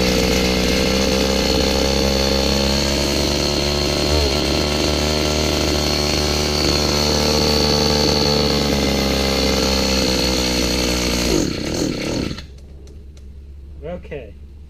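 An Echo SRM-2100 string trimmer's small two-stroke engine runs loud and close at a steady buzzing idle, then cuts off abruptly near the end, leaving near silence with faint clicks.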